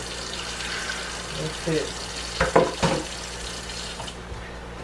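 Water is added to a pot while cooking pork loin with mustard greens, a brief splash and trickle over a hiss of sizzling, with a few short spoken words.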